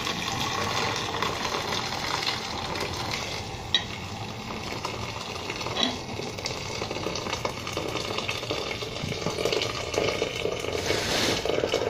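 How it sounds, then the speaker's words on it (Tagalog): Boiling water goes into a saucepan for ampalaya leaf tea, a steady close rushing and bubbling wash of liquid that runs throughout, with no voices. "Kumulo na ang tubig. Buhusin lahat sa kaserola."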